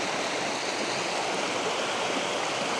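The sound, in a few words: water flowing over a river weir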